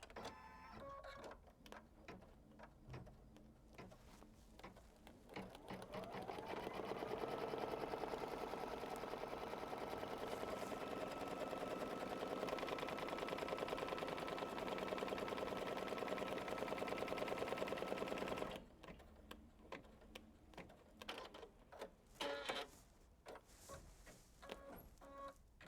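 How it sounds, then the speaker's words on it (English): An embroidery sewing machine stitching crosshairs directly onto stabilizer gives a steady, dense mechanical whir for about twelve seconds, framed by scattered clicks and ticks before and after, with no talking. "We're going to stitch directly on the stabilizer the crosshairs."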